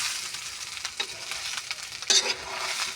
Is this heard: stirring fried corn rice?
yes